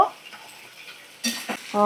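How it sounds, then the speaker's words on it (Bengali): Pasta being stirred in a pan for an afternoon snack, with soft scraping and clinking of a utensil against the pan, quiet at first, then louder strokes near the end, close up and without talk. "তো এবারে আমি দেখো সব পাস্তাগুলো দিয়ে দিলাম, দিয়ে ভালো করে একটু নাড়াচাড়া করে মিশিয়ে নেব।"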